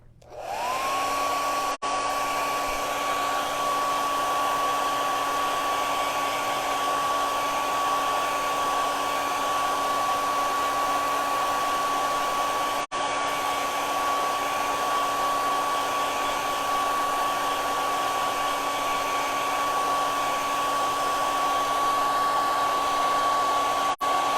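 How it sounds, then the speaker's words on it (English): A hair dryer blows steadily and close over a watercolor painting of a house, a loud constant whir with a high tonal whine that holds for over twenty seconds, broken only by two brief clicks. "I'm going to blow dry this just in case I forgot a section"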